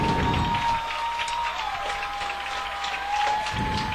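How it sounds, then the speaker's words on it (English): Bremen football fans stand and applaud at the end of a 2012 game against Culver, a broad, distant crowd roar of clapping that holds steady throughout, with a faint tone running beneath. "the Bremen fans are finally able to breathe a sigh of relief here and are standing on their feet applauding"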